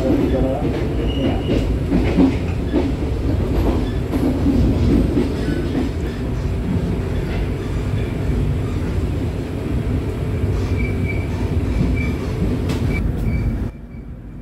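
Serayu economy class passenger train arriving at Kutoarjo station in Indonesia, a steady loud rumble of rolling wagons with faint clatter and wheel noise throughout, ending abruptly near the close.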